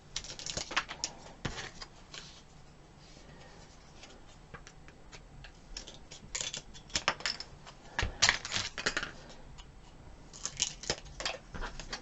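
Wooden craft sticks being cut to size for a Dollar Tree barn quilt project, giving irregular snips and clicks with scattered sharp cracks, close by, over a steady low background.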